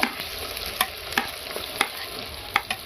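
Capsicum frying in a pan with onion and ginger-garlic paste for chilli chicken, a continuous sizzle broken by sharp spatula scrapes and knocks at irregular intervals, close and fairly quiet.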